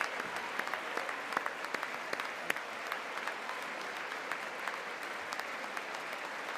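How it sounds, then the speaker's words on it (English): Applause in the chamber at the close of the 2025 State of the Union address, a steady wash of many hands clapping with scattered sharper claps standing out, sustained throughout. "I'll clap for that."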